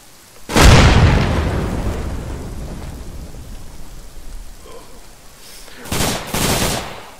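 A frag grenade blasts close and loud in the SOCOM video game, its boom rolling off into a long rumbling tail, followed a few seconds later by sharp bursts of gunfire.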